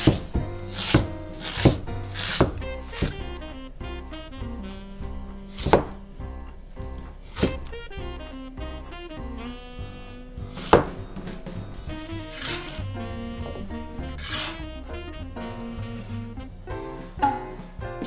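A knife chops nagaimo (Chinese yam) on a cutting board, sharp close knocks falling in uneven clusters and single strokes over a quiet kitchen background, with no talk.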